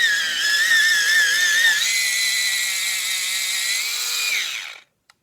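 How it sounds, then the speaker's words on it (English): A cheap battery-powered pencil sharpener from Dollar Tree whirs steadily with a high motor whine, its pitch shifting as it grinds the pencil, then it stops abruptly, followed by a faint click. "Okay, the first up, the sharpener from Dollar Tree."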